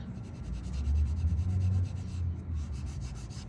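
A nonshrink patch filling nail holes is scrubbed to remove the film, making a continuous, close, gritty rubbing that swells and eases in short strokes. No one talks.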